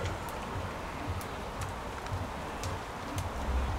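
Steady wind and rain outdoors make a constant broadband hiss with faint pattering drops throughout, with no voices.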